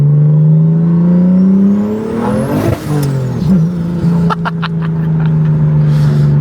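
Single-turbo BMW F80 M3 with a straight-piped exhaust, single mid pipe and no resonators or cats, revving hard: a loud close droning rev that rises, drops off and settles into a rough idle, with crackles near the end.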